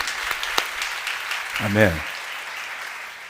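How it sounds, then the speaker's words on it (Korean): A large church congregation claps through a worship gathering of more than five thousand people, producing a steady wash of applause across the whole moment while a voice briefly calls out over it. "우리 주님 앞에 영광의 박수 올려드리겠습니다."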